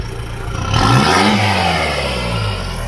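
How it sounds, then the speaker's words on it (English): Lifted Roxor with a three inch straight pipe exhaust, already idling loudly, swells into one deep rising rev, then holds a throaty roar as the engine settles back. Close and loud, with no talking. "Give it a good rev."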